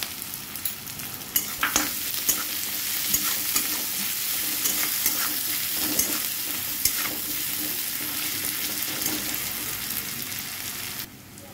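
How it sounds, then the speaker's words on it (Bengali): Sliced onions fry with salt in hot oil in a pan for a tilapia curry, a steady close sizzle with occasional stirring scrapes, alone without voices. "এবার পেঁয়াজটা নরম হওয়ার জন্য আমি নুন দিয়ে দিচ্ছি।"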